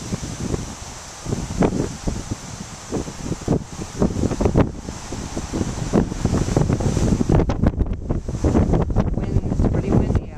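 Wind gusting outdoors on open water, buffeting the microphone in repeated rough bursts with a steady rushing background, loud and close throughout.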